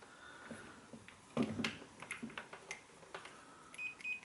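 A multimeter on a continuity test sounds short, thin beeps near the end, after soft clicks and taps of the probes on a lawnmower kill switch cable, all quiet.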